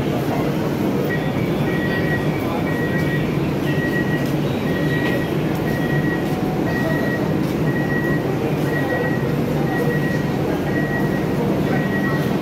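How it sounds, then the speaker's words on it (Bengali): An AC local train on Eastern Railway pulls into Barrackpore station platform with a steady loud rumble of wheels and carriages, accompanied by a regular high-pitched beeping, heard close from inside. "তো ট্রেন এসে দাঁড়ালো ব্যারাকপুর স্টেশনের 1A প্ল্যাটফর্মে"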